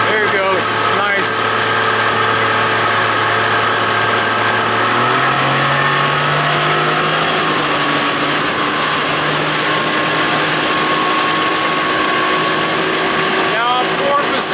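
A 60 hp Johnson outboard motor drones steadily through a boat test run, its pitch stepping up partway through as it powers along, with someone talking over the engine.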